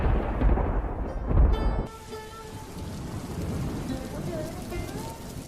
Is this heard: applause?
no